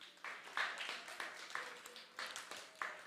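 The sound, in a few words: parents applauding themselves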